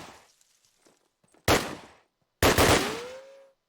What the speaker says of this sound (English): Really misleading where that shot was coming from.